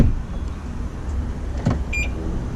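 A 2016 BMW X4 M40i unlocks from the key fob with a short mechanical clunk of the door locks, followed by a faint high chirp near the end, set against steady outdoor background noise and no talk.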